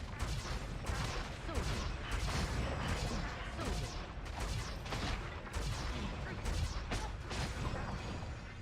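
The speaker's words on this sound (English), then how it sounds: "I'm basically just going to be like spamming magic missiles in here." Magic missile spells being rapid-fired in Baldur's Gate: Dark Alliance on PlayStation 2, a fast irregular string of sharp crackling bursts and impacts that continues steadily throughout at moderate level.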